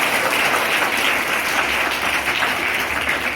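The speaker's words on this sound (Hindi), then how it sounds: "एक बार जोरदार ताली बजाइए।" An audience claps loudly and steadily for a school student, a dense, continuous burst of applause from a crowd, close and without pauses, with no speech over it.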